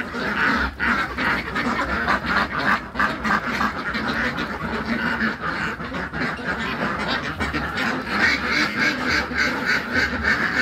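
A flock of Muscovy ducks quacks continuously and fairly loudly, with overlapping calls from several birds close by and no speech.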